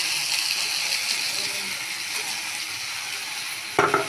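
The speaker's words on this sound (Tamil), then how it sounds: "நல்லா வதக்கணும்." Tomato with salt, coriander, chili and turmeric powders sautéing in a pan for a chapati masala, a steady soft sizzle throughout with a brief clatter near the end.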